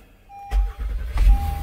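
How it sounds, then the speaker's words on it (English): A Honda Odyssey minivan engine cranks and catches with a sudden low rumble about halfway through, then settles into a steady close idle with no talking. "All right, gonna go ahead and start it up."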